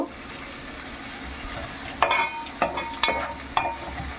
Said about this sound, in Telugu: ఉప్పు ఆనియన్స్ ఫ్రై అయ్యే వరకు అలా పెడదామండి